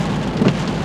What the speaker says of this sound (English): ooh, that's a lot of rain. Do you guys hear that?